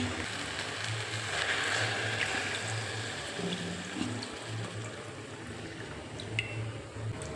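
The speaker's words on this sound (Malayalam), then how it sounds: "കുറച്ച് വെള്ളം ചേർത്ത് കൊടുക്കണം" Water poured into a cooking pot of fish in a home kitchen, a soft continuous splashing and gurgling rush that fades slightly over several seconds.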